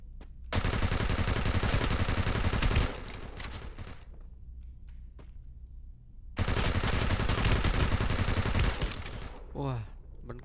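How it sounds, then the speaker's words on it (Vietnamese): Rapid automatic gunfire in the Free Fire battle game, two long loud sustained bursts separated by a short gap, with scattered shots and a brief effect sound near the end. "Bắn kinh thế."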